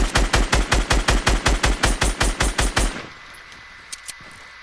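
Rapid automatic gunfire in Fortnite, about fifteen evenly spaced loud shots in a quick rhythm that stop abruptly, followed by a couple of faint distant pops.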